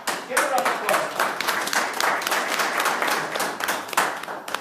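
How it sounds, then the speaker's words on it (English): A crowd at a FutureNet event in Birmingham applauds steadily for several seconds, dense clapping at a consistent loudness from start to finish. "This gentleman, give a round of applause."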